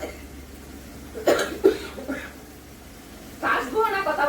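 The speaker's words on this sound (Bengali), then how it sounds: "কথা বলতে গেলেই কাশি পাচ্ছে" Someone coughs indoors during cooking: two sharp, close coughs in quick succession, then a rougher burst of coughing a moment later, with voices nearby.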